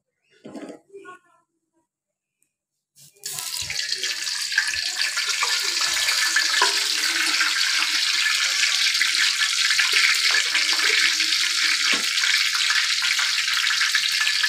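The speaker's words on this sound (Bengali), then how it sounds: "তেলটা গরম হয়ে আসছে, ফোড়নে দিলাম আমি একটু ডাল মশলা" Dal spices drop into hot oil in a pan for tempering, and after a brief quiet moment a loud, steady hissing sizzle starts and keeps going.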